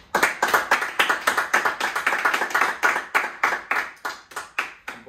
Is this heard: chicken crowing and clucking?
no